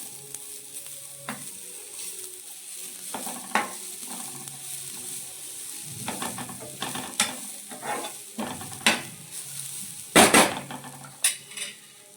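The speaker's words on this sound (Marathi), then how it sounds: "थोडं परतून घेऊया तूप टाकून" Ghee sizzling in a pan as modak filling is sautéed, with scraping stirs and clinks of a spoon against the metal pan over a steady frying hiss.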